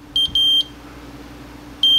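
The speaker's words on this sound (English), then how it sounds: "the LED goes on and then the alarm goes off" A low-voltage battery alarm for 9–14 VDC ham radio batteries, set to trip at 9 volts, sounds a high, clean electronic beep: two quick tones close together, a pause, then a third beep starting.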